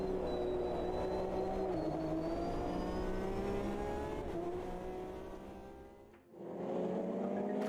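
GTE race car engine in the sim racing game Automobilista 2, loud and close, revving steadily with rising pitch across gear changes, a brief dip near the end before climbing again, no talk.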